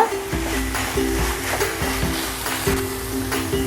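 A spoon stirs carrot halwa in a pan as the milk dries down, giving a steady soft sizzle broken by regular scraping strokes against the pan, close and fairly loud.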